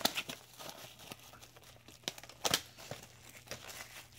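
A small knife cuts into the plastic wrap on a Blu-ray SteelBook, giving quiet, scattered crinkles and sharp tearing snaps that come in irregular bursts close by.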